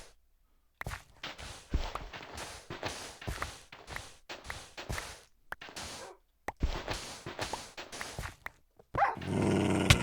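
A dog in a video game growls and snarls in a string of close, rough bursts, broken by short pauses and a few thudding footsteps, with a louder noisy swell at the end.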